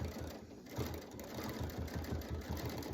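A Radiance quilting sewing machine with a stitch regulator runs steadily, its needle pulsing in a fast, even rhythm close by with no talk.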